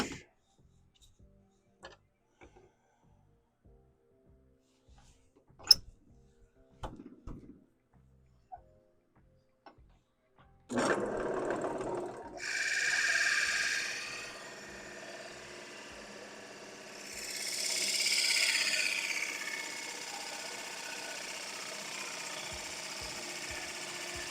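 Dull Forstner bit drilling into wood on a woodturning lathe, a steady mechanical whir that begins after scattered quiet taps and knocks, then swells into two louder grinding surges as the bit bites.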